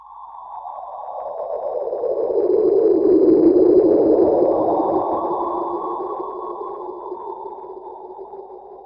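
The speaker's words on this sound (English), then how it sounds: "Scientists at the Massachusetts Institute of Technology managed to convert these typical X-ray echoes into audible sound waves" Black hole X-ray echoes converted into sound: an eerie, smooth synthetic tone swells and wavers, rising to a peak midway before slowly fading, with a faint high whine above it.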